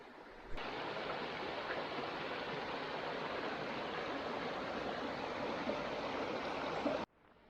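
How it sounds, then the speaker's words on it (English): The Lost River at Natural Bridge State Park, Virginia, flows steadily in a constant, full rushing wash, close by and unbroken, with no talking, cutting off abruptly near the end. "so the Lost River. Can you hear it?"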